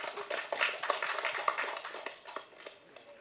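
Sparse applause from a small audience at a speech, a thin scatter of hand claps that fades toward the end, quiet and slightly distant.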